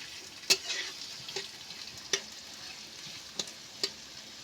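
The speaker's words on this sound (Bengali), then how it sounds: "এইভাবে নেড়ে নেড়ে আমি পেঁয়াজটা ভালো করে ভেজে নেব" Onions frying in oil while being stirred in a pan, a quiet continuous sizzle broken by a few sharp scrapes and taps of the spatula, close-up and alone.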